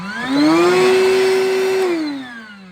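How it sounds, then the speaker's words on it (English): A small cordless vacuum cleaner used for cleaning out a car spins up, holds a steady whining motor hum for over a second, then winds down, close and alone. "got a nice little cordless vac, so that's good for little vacuuming out the car"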